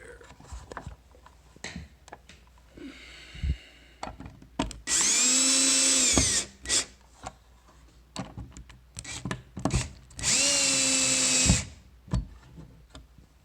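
Cordless power drill with a low clutch setting tightening screws into a surge protector outlet, two sustained whirring bursts of about a second and a half each, close, between clicks and handling noises.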